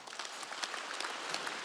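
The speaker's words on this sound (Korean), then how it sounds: "박수 좀 쳐줘요." Church congregation clapping during a Korean Wednesday worship service, a continuous dense spatter of applause from many hands, moderately loud and steady.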